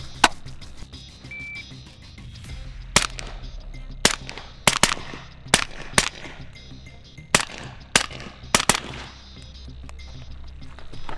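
Rifle shots fired in quick pairs at targets, a rifle with a 4-power optic: a dozen or so sharp, loud cracks in irregular clusters, each followed by a brief decay, with no talk.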